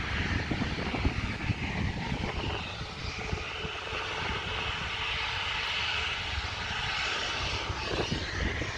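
Jet airliner engines roar steadily for several seconds as the plane comes in to land at an airport, loud and sustained without speech.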